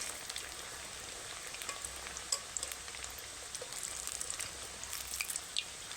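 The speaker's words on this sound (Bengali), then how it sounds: "হালকা আঁচে কিন্তু ভাজতে হবে" Potato-filled spring rolls fry gently in oil over low heat, a soft, steady sizzle with scattered tiny pops and crackles, fairly quiet and close, with no talk.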